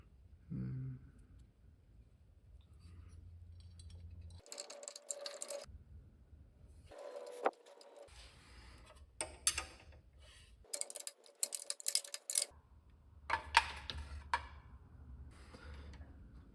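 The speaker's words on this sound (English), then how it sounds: "I'm actually gonna connect the 2 bolts over here first to hold the whole thing in place." Metal bolts being fastened onto a Briggs & Stratton 5HP carburetor during replacement: a series of small clinks, ticks and tool clicks in irregular bursts, close by, with quiet gaps between.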